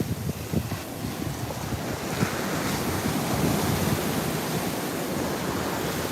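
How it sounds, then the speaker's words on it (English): Atlantic Ocean surf at Juno Beach, a continuous loud wash of breaking waves mixed with heavy wind buffeting the microphone, with no voices. "we're on the Atlantic Ocean on Juno Beach"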